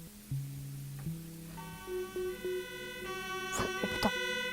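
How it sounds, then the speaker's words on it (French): Ambulance siren arriving in a Roblox animal hospital game, a steady electronic wail with sustained harmonic tones rising in layers, fairly loud, with brief clicks and game effects toward the end. "Préparez-vous, l'ambulance arrive."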